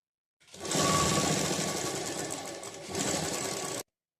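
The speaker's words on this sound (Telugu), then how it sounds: "బార్డర్ని చూడండి ఇట్లా మొత్తం ఇలా నీట్గా కుట్టేసుకోవాలన్నమాట" An electric sewing machine stitches the border of a blouse back neck, running steadily and close for about three seconds with a brief dip in pace before stopping abruptly.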